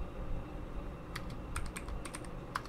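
Code being typed on a computer keyboard while programming Java in Android Studio: scattered, quick light key clicks in short clusters over a low steady room hum, close and fairly soft.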